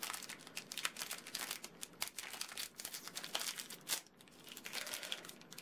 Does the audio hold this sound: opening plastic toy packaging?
yes